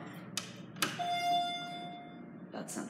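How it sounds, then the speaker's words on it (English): A modernized ERM elevator alarm bell rings in Baxter Lecture Hall in Pasadena, California, a bright sustained tone lasting about a second, framed by a few sharp clicks and knocks in a quiet hallway. "Anyway, let's ring the bell."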